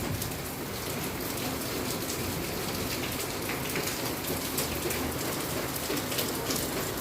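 Heavy rain pours steadily, a dense continuous hiss of drops hitting surfaces with no pauses.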